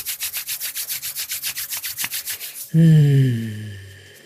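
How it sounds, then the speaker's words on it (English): People rubbing their hands together, a rhythmic swishing of about twenty quick strokes, followed by a loud tonal sound that fades out. "Let's rub our hands together."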